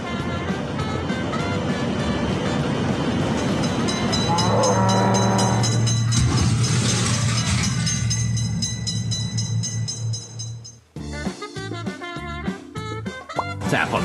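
A train in the Android game Railroad Crossing Train Simulator rumbles past with a loud horn blast and clattering, then cheerful electronic music takes over near the end.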